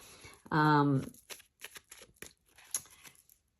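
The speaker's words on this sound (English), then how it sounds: "once you've shuffled your deck nicely" A deck of oracle cards being shuffled, a dense burst of papery riffling and flicking at close range, followed by a few lighter card taps and shuffles trailing off.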